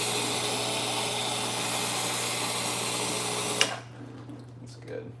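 An espresso machine pump hums loudly and steadily while pulling a coffee shot, then cuts off abruptly, leaving a quiet room with faint small sounds.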